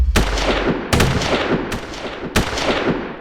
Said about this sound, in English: Shots ring out, and 3 people are killed instantly.